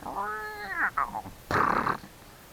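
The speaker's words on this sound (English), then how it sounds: "There's that freaking cat." A house cat lets out a drawn-out, wavering yowl followed by a couple of shorter cries and then a harsh, noisy hiss or growl, close and fairly loud.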